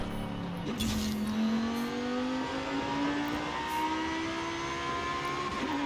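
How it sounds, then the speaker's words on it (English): A Lamborghini Huracan Squadra Corse Super Trofeo race car in Forza Horizon 5 pulls hard, its loud engine note climbing steadily in pitch through the gears, close and continuous. "Squadra Corsa Huracan Super Trofeo. Again, super loud car."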